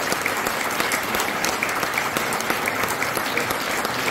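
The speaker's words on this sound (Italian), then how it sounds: "basta il vostro applauso" An indoor book-presentation audience in Tradate applauds author Aldo Cazzullo with steady, dense clapping that fills the room evenly from start to finish.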